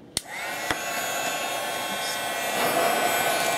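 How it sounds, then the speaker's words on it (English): A heat gun melting fusible webbing starts with a click and a short knock, then blows a steady, close, breathy whoosh that keeps going to the end without any talking. "And I'm just going to grab my heat gun again."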